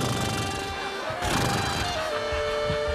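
Horse entering the Cirque Knie circus ring, neighing loudly close by in drawn-out whinnies, with a few hoof clops and a sharp crash in between.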